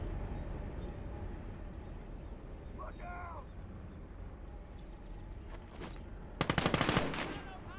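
A short, loud burst of rapid machine gun fire near the end in the World War II game Gates of Hell, preceded by quieter battlefield rumble and faint distant noises.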